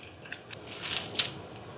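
Scissors cut a paper lid for a Christmas dinner dish in a series of faint crisp snips and rustles, close and quiet, with no talk.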